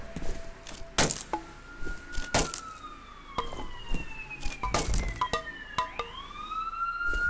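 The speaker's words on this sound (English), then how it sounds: "That siren is very loud." Loud wailing siren in the video game F.E.A.R., its tone sweeping up and down repeatedly while sharp thumps and clanks punctuate it, with no talking over it.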